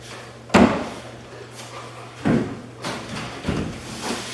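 A door hung on a hanging bracket is opened and moved, giving three dull knocks and thumps with creaky handling between, close by and fairly loud.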